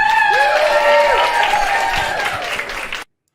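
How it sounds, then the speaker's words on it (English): An audience at a standup comedy show claps continuously while voices call out over the top, steady applause that cuts off abruptly at the end. "I want to see how long I can just keep them clapping for"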